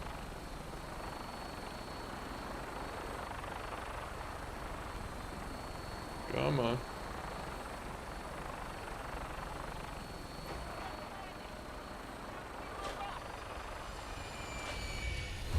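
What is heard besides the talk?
helicopter flying in video game Fallout 4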